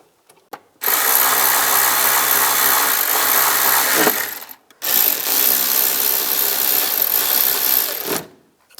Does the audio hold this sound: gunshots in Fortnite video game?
no